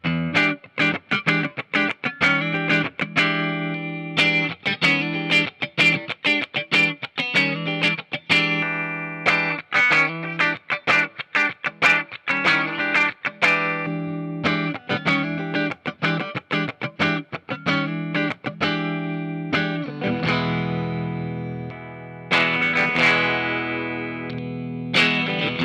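A 2021 Fender Japan Noir Jazzmaster electric guitar plays through distortion and chorus effects, with sharply picked notes and chords in a loose rhythm, loud and close, ending on a long sustained chord.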